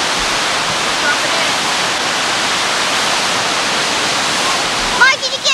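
A waterfall in New Hampshire rushes in a loud, steady broadband roar that fills the scene, with a voice cutting in briefly at the very end.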